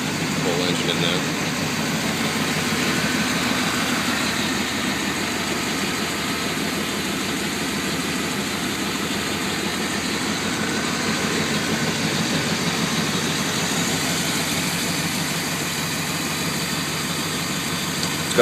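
A 1995 Chevy Tahoe LT 4x4 with a 5.7L V8, TBI throttle body injection, K&N air filter and Flowmaster exhaust idles with a steady, even rumble throughout.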